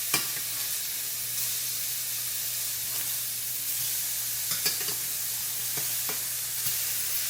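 Burgers and mushrooms sizzle in a pan, a steady close hiss of frying fat broken by occasional sharp ticks and spatula scrapes. No voices are heard.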